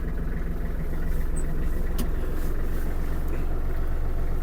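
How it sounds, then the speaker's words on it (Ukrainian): Kubota GL-29 mini tractor engine idling while it warms up, a steady low rumbling drone at moderate distance, even and unbroken with a faint click partway through. "Ну а поки двигун прогрівається"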